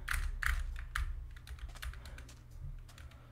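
Quick keystrokes clatter on an Apex Pro Mini keyboard, a close, moderately quiet burst of typing with a few heavier presses at the start and a low hum underneath.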